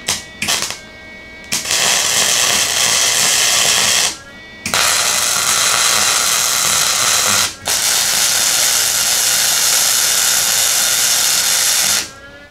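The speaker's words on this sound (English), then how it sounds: "I might go ahead and do this top weld over here on this existing bracket" Welding on a bracket of a 1978 Jeep J10 crackles and hisses in three long bursts at close range, each separated by a brief pause.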